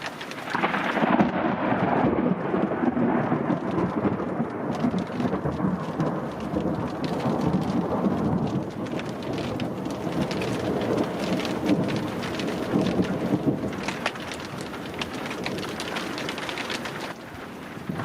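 Heavy monsoon rain pours steadily while deep rumbles of thunder roll through, loud and continuous with no voices.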